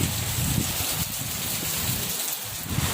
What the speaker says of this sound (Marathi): आत्ता आमच्या गावाकडे खूप मोठा पाऊस आला आहे